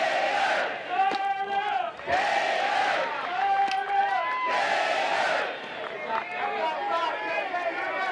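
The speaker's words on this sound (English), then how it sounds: "You can hear the crowd really into this one." A sellout stadium crowd at a college softball game between Florida and Georgia roars and yells in rising and falling waves, with many voices shouting together.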